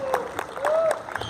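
Audience applause at a Hindi comic poetry recitation for a Vigilance Day event: a few scattered claps with a voice carrying over them, thin and brief rather than a full ovation.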